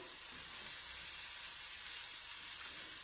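Vegetables for steak fajita quesadillas sauté in a pan, a faint, steady hiss of sizzling that holds even throughout.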